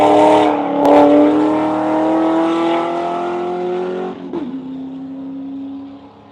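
A Subaru and a Toyota Supra race by on a track, with loud revving engines that rise as they near and then drop sharply in pitch as one roars past up close.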